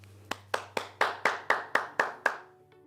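Hands clap in a slow, even rhythm, eight crisp near claps spaced about a quarter second apart, each ringing briefly, over a low hum, as applause for staff at a children's law center gala.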